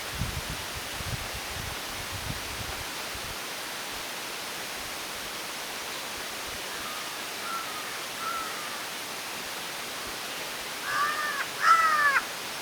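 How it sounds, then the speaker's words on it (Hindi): A crow caws a few times in the distance over steady rushing background noise during an evening safari in the Jhirna zone of Jim Corbett, with faint rustling early on. "क्या कह रही है कौवा?"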